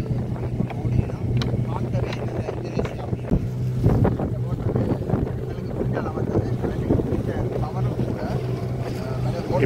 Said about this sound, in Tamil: இப்போ ஒரு படகு ஒன்று எங்களை முந்தி செல்லக்கூடிய காட்சியை தான் பார்க்கின்றோம். அதாவது அதிக குதிரை வலுவுடைய இயந்திரத்தை அங்கே பூட்டி இருக்கிறார்கள்